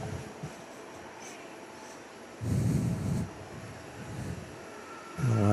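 Malaysia Airlines airliner taxiing at Perth airport, a steady low jet engine rumble with swells of louder roar as it rolls along at a moderate distance, no talk over it.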